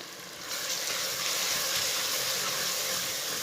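Spices with tomato frying in a pan for beef curry, cooked over medium heat: a steady close sizzle that starts softly, swells after half a second and then holds an even, watery hiss with no voices.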